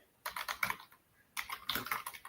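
Bursts of typing on a computer keyboard, two separate runs of quick close clicks with a short pause between them, no voices.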